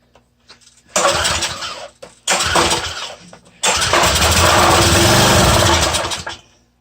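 A small engine on a machine pulled from the trash cranks and fires in three bursts, the last catching and running for several seconds before cutting out, loud and close with no talk.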